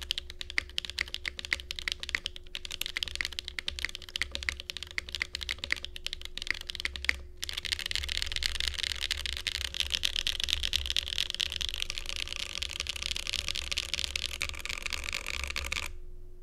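Fast, continuous typing on a Time65 mechanical keyboard, close and crisp, with clacky keystrokes and a brief pause partway through, no talking.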